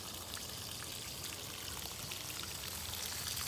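Water flows continuously through a small river erosion model, a steady close rushing and pouring hiss without pauses or voices, moderately quiet and unchanging.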